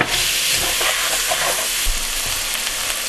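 Sausage and chopped onion fry in a pot with a steady, close sizzle and hiss throughout, dense and continuous with an occasional soft stir or bump, and no talk.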